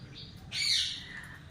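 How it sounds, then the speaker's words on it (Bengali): A koel calling from outside a home kitchen on a summer day, joined by a pet parrot: one clear, fairly loud bird call of about half a second over a low background hum. "একভাবে কোকিল ডাকছে।"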